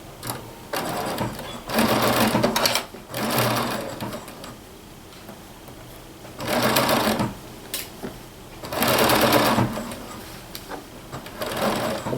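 Domestic sewing machine stitching around a garment sleeve, running in several loud bursts of steady rapid whirring separated by quiet pauses, close up.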